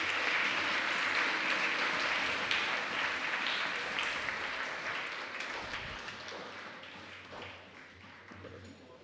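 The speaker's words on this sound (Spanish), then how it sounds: "Vamos a brindarle un fuerte aplauso a estos 12 estudiantes." An audience at a 2016 regional oratory competition final in Colón province applauds twelve finalist students before a medal presentation, starting strong and full, then gradually fading to scattered claps.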